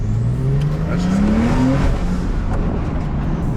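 Stage 2 tuned Porsche with turbos accelerating hard, a loud engine roar rising steadily in pitch, close and continuous, with whooshing turbo spool on top and no voices.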